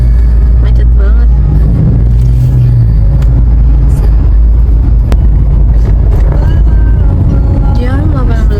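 A car crawls through a heavy evening traffic jam on the Jakarta Outer Ring Road toll, giving a loud, steady, close low rumble with faint voices now and then.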